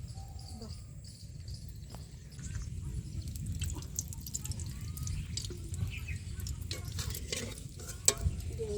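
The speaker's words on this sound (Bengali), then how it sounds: "মা ডিম ভাজবে" Eggs frying in a pan in a village kitchen give a steady low sizzle and crackle, with occasional utensil clinks and faint insect chirps in the background.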